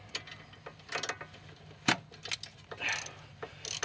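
A 5/8 ratchet wrench works a brake caliper bolt on a Pontiac G6, giving a string of quiet, irregular ratcheting clicks and short metallic ticks, close and faint, with no talk.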